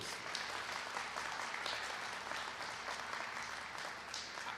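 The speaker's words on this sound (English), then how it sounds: "Let's give him a round of applause, please." Audience applause at a Detroit transit investment event, a steady even wash of clapping from a crowd, fairly faint and distant, continuing throughout without a break.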